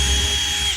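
A power drill bores a pilot hole in a wooden board ahead of screws, a loud, close, steady whine lasting under a second before it winds down.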